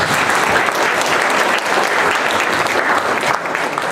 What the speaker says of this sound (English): But a round of applause.